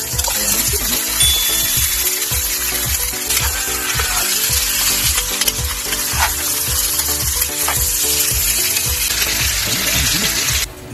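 Ginger, lemongrass and long green chili sautéing in a pan for chicken tinola: a steady, loud, close sizzle of frying with occasional stirring scrapes, continuous throughout with no talking.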